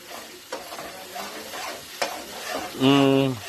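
Food stirred in a pan of sizzling hot oil gives a steady frying hiss with scraping clatter, ending in a brief loud tonal squeal.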